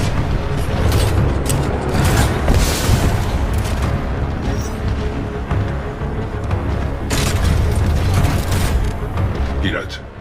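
Titan Salvo Core missile volley in Titanfall 2, a dense, continuous barrage of booming blasts and rumbling impacts, loud and close, with sharper bursts standing out amid the roar and a voice briefly heard.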